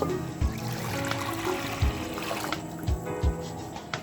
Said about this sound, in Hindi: सबसे पहले मैं पैन में ऐड कर रही हूँ यखनी को